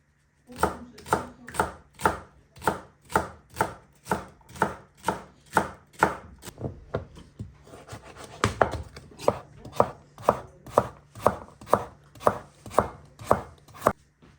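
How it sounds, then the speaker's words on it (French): A knife chops vegetables steadily on a cutting board, with sharp, regular strikes that come in quick rhythm for the whole stretch and pause only briefly midway. "maintenant je vais couper les légumes"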